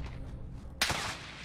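A single sharp burst of gunfire in the shooter Warzone, loud and close, breaking out over a low ambient hum and ringing briefly.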